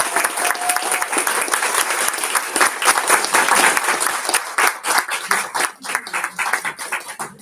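Room full of people clapping for standing research fellows at a presentation event, steady dense applause throughout that thins toward the end.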